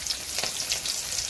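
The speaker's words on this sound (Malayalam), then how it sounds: "ചീൻചട്ടിയിൽ എണ്ണ ഒഴിച്ച് വെളിച്ചെണ്ണ കഴിഞ്ഞിട്ട് കടുകിട്ടു." Mustard seeds fry in hot coconut oil in a pan, a continuous close, bright sizzle with faint crackles throughout and no voices.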